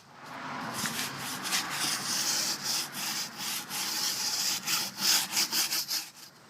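A brush rasps rapidly back and forth, working Black Magic Tire Wet into a 37-inch tire with dense, rhythmic scrubbing strokes close by.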